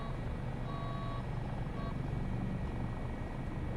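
A Dauphin helicopter hovers in Microsoft Flight Simulator 2024, its rotor and turbine giving a steady, dense roar with brief electronic tones over it, loud and continuous with no talking.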